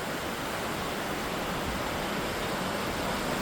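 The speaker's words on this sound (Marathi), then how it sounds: "मस्त झरा आहे झरा." A small Swiss waterfall-like stream rushes in a steady, close, broadband roar throughout the evening walk, with no other sounds standing out.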